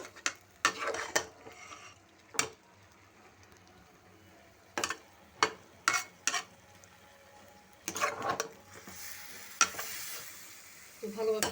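Spiced curry with banana flower and lentils stirred and fried in a pan, with a steady low sizzle under sharp scraping strokes of a spoon that come in irregular bursts, and no talking.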